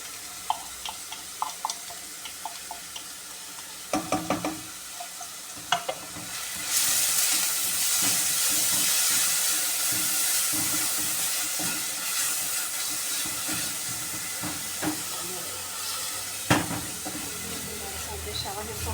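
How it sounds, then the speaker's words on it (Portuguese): Chopped onion sizzles in a hot pan while being stirred, a steady frying hiss with scraping clinks of the utensil, and a burst of louder sizzle partway through. "Deixar ela refogar um pouquinho, murchar."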